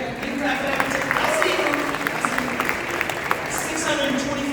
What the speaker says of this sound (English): Yeah, you can clap that.